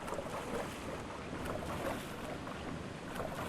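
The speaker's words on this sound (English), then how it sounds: "It definitely sounded like I heard water moving." In the Escape the Backrooms video game, water moves and sloshes in a steady, washing rush with a breezy hiss, sounding continuous and fairly close, with no voices.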